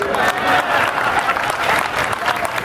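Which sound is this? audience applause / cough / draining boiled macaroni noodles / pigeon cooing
audience applause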